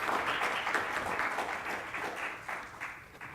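Audience applause fills a lecture hall at a law faculty seminar on foreign trade and customs law, steady dense clapping that holds fairly loud and even before easing slightly toward the end.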